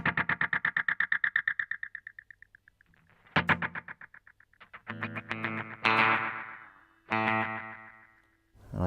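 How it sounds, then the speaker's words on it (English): An electric guitar plays through a Boss DM-2W delay pedal set to a short slapback echo, giving a twangy surf-country tone. A fast repeated note fades out, then several ringing chords and notes each carry a quick trailing echo. "The next one I'll show you is a bit of a slapback, which is a more of a surf or country kind of guitar tone"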